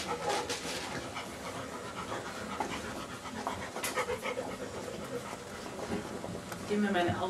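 Puppies pant rapidly and steadily up close while playing, with a busy background of movement and a voice speaking at times.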